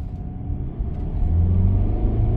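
A Mercedes E-Class W213 accelerating in second gear: a steady, low engine drone heard from inside the car that rises in pitch and grows slightly louder, with no talking.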